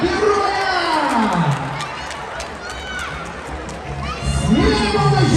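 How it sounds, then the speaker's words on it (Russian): A circus audience cheers loudly, with high shouts and excited children's voices rising and falling over a constant roar of crowd noise for several seconds. "Ну давайте поддержим бурными аплодисментами нашего героя!"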